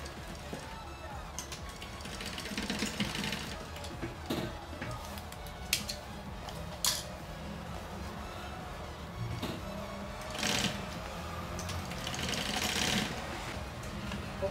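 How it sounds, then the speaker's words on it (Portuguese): Domestic sewing machine stitching along both sides of a zipper on a fabric toiletry bag, a steady mechanical whir with short bursts and pauses, close up amid light handling noise. "Colocado o zíper, eu vou passar uma costurinha aqui de cada lado."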